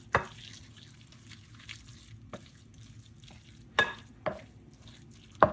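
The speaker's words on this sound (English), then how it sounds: "You don't want to keep stirring like this with the crab meat in there because it'll break it down." A spoon stirs a stuffed blue crab meat mixture in a pot, with a soft background sizzle broken by a few sharp scrapes and knocks against the side, close and spaced out, with no voices.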